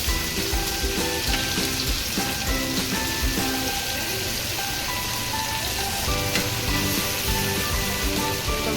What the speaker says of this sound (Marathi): आपल्याला कमी तेलामध्ये फ्राय करायची आहे ही कोळंबी